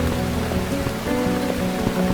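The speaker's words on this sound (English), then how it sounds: "Bloody rain." Steady rain patters on a surface, a continuous hiss with scattered drops and a faint tonal hum beneath.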